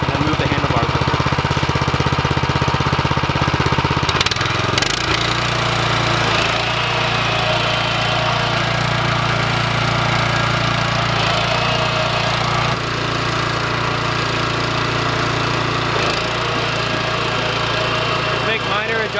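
A small farm walk-behind tractor with an attachment runs at full throttle, a loud steady engine drone that deepens after a few seconds and holds close and continuous throughout.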